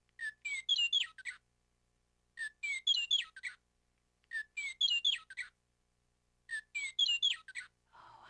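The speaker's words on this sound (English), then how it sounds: "the Western Meadowlark has a beautiful song" Four bursts of bright, fluting bird song, each a cascade of clear whistled notes, repeating at steady intervals with silence between; a Western Meadowlark's song.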